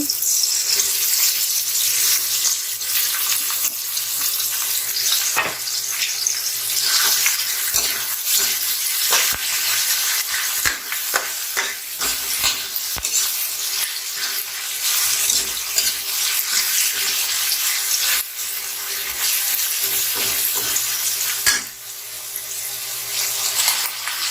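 Chicken pieces dropped into a pot of cooking tomatoes for a corn chicken soup, giving a steady close sizzle and bubbling with scattered stirring clinks and scrapes, no talking.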